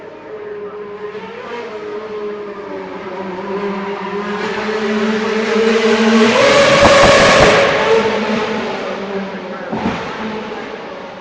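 A car at a Dublin street car show approaches with a building engine roar, peaks loudly as it races past, then fades, with a sharp burst near the end and someone talking over it.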